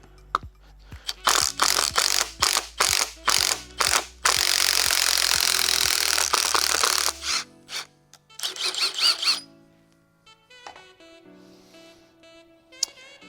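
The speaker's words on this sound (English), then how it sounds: "So we're just gonna go ahead and pull this gear." A standard gear puller being worked to pull a pinion gear off a Vemag HP-E Series infeed scroll drive motor, with a rapid series of ratcheting clicks, a stretch of steady mechanical grinding, then lighter clicking and tool handling.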